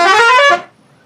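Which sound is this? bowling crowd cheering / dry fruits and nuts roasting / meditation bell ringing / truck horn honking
truck horn honking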